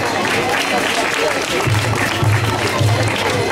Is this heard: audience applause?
yes